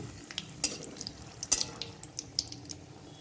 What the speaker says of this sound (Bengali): তেল গরম হয়ে গেছে ফোড়নে শুকনো লঙ্কা দিয়ে দেব তেজপাতা দিয়ে দেব